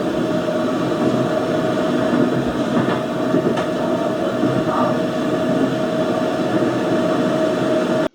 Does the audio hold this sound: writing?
no